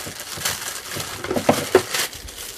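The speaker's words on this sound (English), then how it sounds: "then you can remove the rubber bands in this plastic bag" Rubber bands and a plastic bag being pulled off a Dyson cordless vacuum's fluffy roller brush after washing, giving close crinkling and rustling plastic with a couple of sharper snapping pops near the middle.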